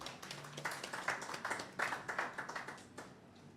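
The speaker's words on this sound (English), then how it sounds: "Please give her a round of applause as she comes." Clapping from a small audience at the launch of a university dental school training facility, a faint patter of scattered hand claps lasting a few seconds.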